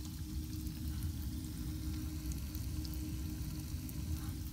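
A steady, fizzing sizzle of hydrogen peroxide in fish tank water hums close by, constant and fairly quiet throughout with a low rumble underneath.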